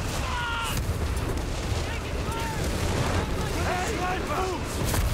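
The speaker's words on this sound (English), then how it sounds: "Some arties coming down. Is this zeroing artillery?" A zeroing artillery barrage in the war game Company of Heroes 3 brings a continuous rumble of booms and blasts. Scattered whistles of incoming shells cut through the roar, and voices can be heard faintly amid the din.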